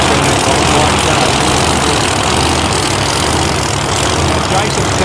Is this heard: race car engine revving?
yes